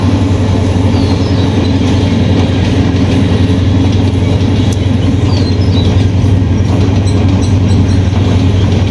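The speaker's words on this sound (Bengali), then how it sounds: "ট্রেন যাইতেছে গা।" A train passes close by with a loud, continuous rumble and rhythmic rattling of wheels and wagons, steady throughout with faint metallic squeals above it.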